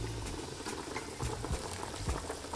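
Chicken and rice simmering in water in a covered pot over low-medium heat, giving a steady, close bubbling and light sizzling patter with a few soft knocks, no voices.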